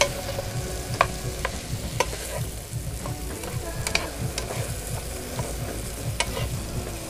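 Beans, carrots, jicama and sweet potato stirred in a hot pan, with a steady sizzle of frying and repeated scraping strokes of a utensil, close and continuous.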